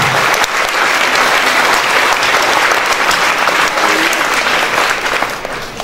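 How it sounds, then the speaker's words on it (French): Sustained, loud audience applause fills the room for about six seconds, dense and steady throughout, thanking Roger Bodin at a municipal gathering, with no voices rising above the clapping. "je voudrais que vous applaudissiez Roger Bodin"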